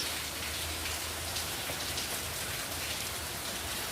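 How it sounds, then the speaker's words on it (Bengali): Dense, steady downpour of heavy monsoon rain pattering on a rooftop garden, a constant broadband hiss with no voices. "মুসুলধারে বৃষ্টি হচ্ছে"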